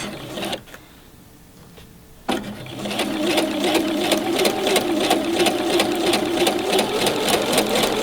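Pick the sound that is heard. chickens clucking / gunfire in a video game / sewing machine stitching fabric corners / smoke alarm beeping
sewing machine stitching fabric corners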